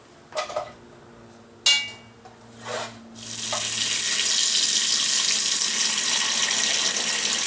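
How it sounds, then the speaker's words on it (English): A cast iron pot clanks a few times in a sink, then a faucet runs steadily and loudly, filling it halfway with water for sinigang. "I'm going to fill this halfway full of water"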